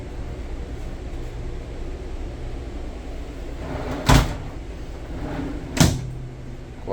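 Glass shower doors in a custom 16.5-foot lofted Trail Boss living-quarters trailer slide and knock shut twice, two short sharp bumps over a steady background hiss.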